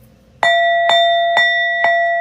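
A bell struck four times at an even, unhurried pace, each bright metallic strike ringing on with a sustained tone that overlaps the next; close and clear, with no talking.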